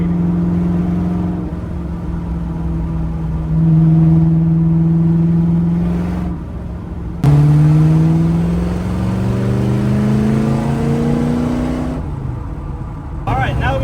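A Factory Five Racing Type 65 engine revs loudly through side pipes during a ride along, with a low rumbling drone that climbs and falls through gear changes and a sharp surge midway, heard up close from inside the car.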